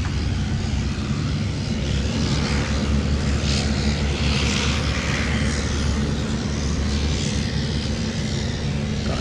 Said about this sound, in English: that does look like a fucking crop duster